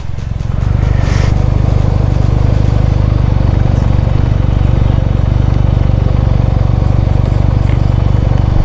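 A motorcycle engine idles steadily and close by at a scenic viewpoint, a continuous low rumble that holds throughout after a brief rise at the start.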